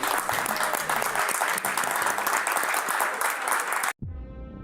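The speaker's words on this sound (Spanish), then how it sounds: "Vamos a aplaudirlos." Dense, continuous applause from a large audience honoring film actors, loud and steady for several seconds, then cutting off abruptly into a brief musical tone.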